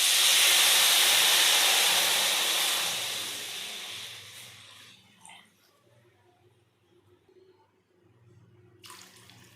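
Water poured into a hot pan of fried lentils, with a loud broadband hiss and sizzle for about four seconds that fades into faint bubbling and small splashes, then a brief burst of hiss near the end.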